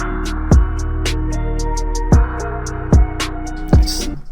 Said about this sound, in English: it just gives a little kind of grainy texture in the background.